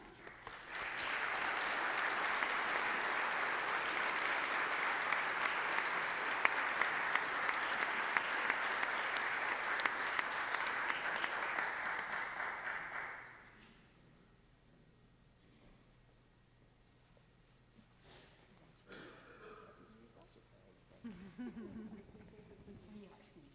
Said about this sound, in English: A big round of applause for all of our awardees